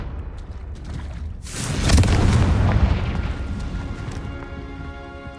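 A Confringo spell in Hogwarts Legacy bursts into a sudden booming fiery explosion partway through, rumbling briefly before decaying into a ringing magical tail.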